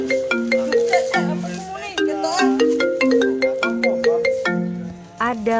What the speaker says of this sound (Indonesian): Ada panggilan masuk.